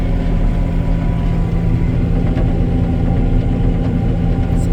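A tractor engine labours uphill, its steady heavy rumble and throbbing idle-like drone holding loud and continuous throughout with no speech.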